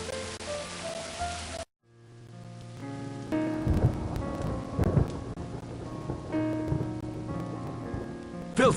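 Rain pours steadily through an audio-drama thunderstorm, with thunder rolling and cracking loudly over the downpour after a brief opening sound cuts out.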